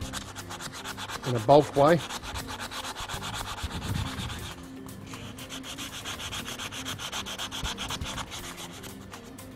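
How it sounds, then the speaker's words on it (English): Rust scale is scrubbed off a steel brake disc rotor in a workshop with close, rough, continuous abrasive rubbing strokes. A louder burst comes early on, and someone speaks briefly. "we just basically work our way around and remove as much of the rust scale as we can"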